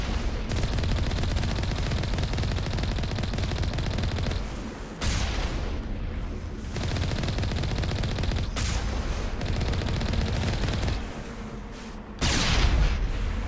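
Sustained loud bullets and cannon fire in the Mass Effect video game, dense continuous shooting with brief lulls and booms, no talk heard.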